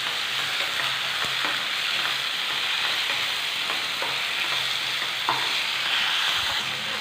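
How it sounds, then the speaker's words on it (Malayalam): Tomatoes and turmeric powder sautéing in a pan for chicken curry, a constant loud sizzle with occasional light scrapes and taps from a stirring spoon, no talking. "ഈ മഞ്ഞൾപ്പൊടിയുടെ പച്ചക്കുത്ത് പോകുവോളം നമുക്കിതൊന്ന് വഴറ്റിയെടുക്കണം"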